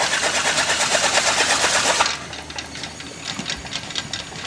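A woodworking machine at the Hanford Mills Museum cuts a bevel edge on a round wooden butter tub cover. A loud, fast rattling buzz runs for about two seconds, then drops to a quieter running clatter.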